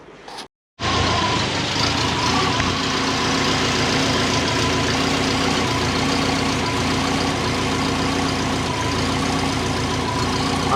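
A turbocharged Subaru engine with a homemade exhaust manifold idles steadily at close range, a continuous low rumble with a faint ticking texture and no talk over it.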